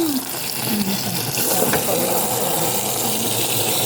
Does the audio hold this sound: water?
yes